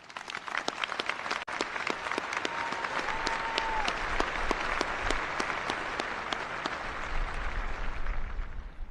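An audience at the 2021 Air Force Academy graduation in Falcon Stadium applauds in a sustained, broad wash of clapping that stays even for several seconds, heard from a distance across the open stadium.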